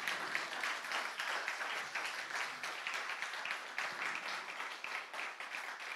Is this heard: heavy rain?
no